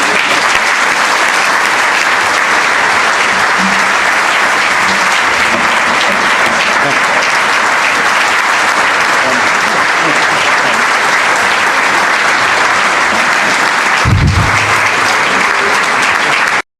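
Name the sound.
audience applause welcoming union president at banquet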